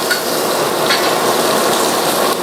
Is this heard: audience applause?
no